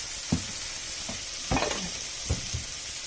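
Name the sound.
olive oil sizzling in pot for gnocchi soup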